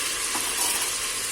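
Food frying on high flame in a pressure cooker pot, a dense continuous sizzle that stays loud and steady throughout, with no voices.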